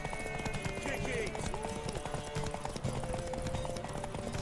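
Horse hooves clip-clop in a quick, steady galloping rhythm in The Witcher 3: Wild Hunt, continuous and fairly close, mixed with in-game voices talking over the hoofbeats.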